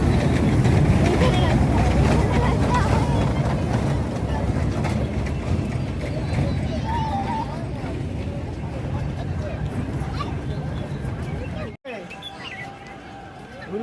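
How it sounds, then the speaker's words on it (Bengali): A train runs close by in a park, making a steady, loud mechanical rumble and clatter that fills the whole stretch. It drops out briefly near the end, and voices can be heard around it. "ওখানে একটা ট্রেন চলছে"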